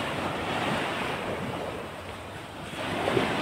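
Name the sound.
rough sea waves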